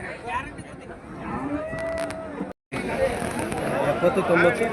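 An eleven-month-old Amrit Mahal calf moos at the Honnali cattle market in the rain, a drawn-out moo amid the crowd's background chatter and hubbub.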